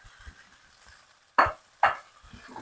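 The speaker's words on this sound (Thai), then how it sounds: "อันนี้เราจะผัดแค่แป๊บเดียวนะคะ" Glass noodles with carrot and tomato are stir-fried in a pan, with two sharp scraping tosses standing out over faint background clatter, close and fairly quiet.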